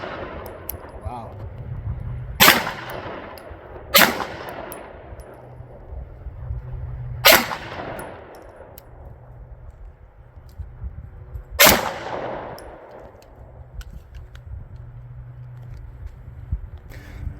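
Four loud, sharp gunshots from a SAR K2 .45 ACP pistol fitted with a stainless steel barrel, spaced a few seconds apart at an outdoor shooting range, each ringing out briefly over low background rumble.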